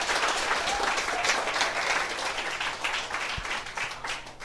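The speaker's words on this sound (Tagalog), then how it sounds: "dapat nilalakasan yung palakpak nyo" Audience applause at a business opportunity presentation, a full, sustained crowd clapping at moderate distance that holds steady and eases slightly near the end.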